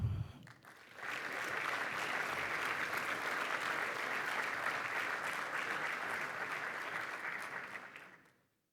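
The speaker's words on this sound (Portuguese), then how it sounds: "Um aplauso." Applause from a seated audience at the opening ceremony of the 31st congress of the Portuguese order of dentists swells after a brief pause and holds steady for about seven seconds before fading out.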